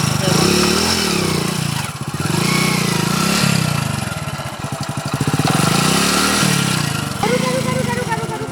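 Motorcycle engine running and revving steadily throughout, loud and close, with fluctuating throttle; it plays under a comic Maithili village scene.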